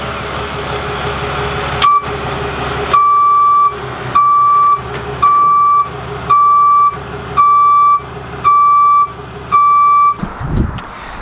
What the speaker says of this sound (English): This truck has a backup alarm from the factory.